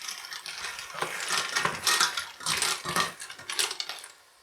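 Defrosted frozen clams stirred in a pan for spaghetti alle vongole, their shells clattering and clinking in quick, bright rattles, loud and close, with no talking.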